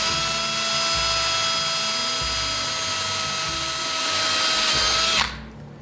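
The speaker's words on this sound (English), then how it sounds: "Got my drill, 3/16 drill bit, and onto the mark." An electric drill with a 3/16 bit bores through brass, a steady high whine holding constant for about five seconds before abruptly cutting off and winding down.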